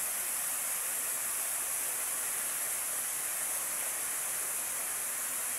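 Kalibong Falls in San Nicolas, Pangasinan, a waterfall giving a steady, loud, broad rush of water that holds constant throughout, with no voices.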